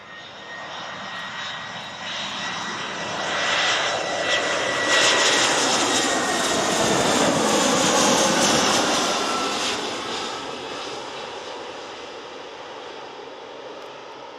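An airliner arriving at Newcastle Airport roars in from a distance, its engine noise swelling to a loud broad rush over several seconds before slowly fading again.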